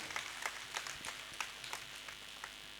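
Faint, sparse clapping from a church audience at a coronation ceremony for Mother Mary, scattered individual claps heard at a distance and quite quietly.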